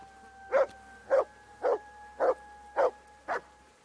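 A dog barks in the medieval world of Kingdom Come: Deliverance, six evenly spaced single barks at a moderate distance, each short and sharp, over a quiet game ambience.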